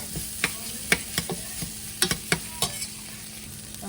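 Tomatoes sautéing in a pan for Kottayam-style Kerala beef curry, a low steady sizzle punctuated by brisk, repeated spatula scrapes and clinks against the pan at a quick irregular rhythm.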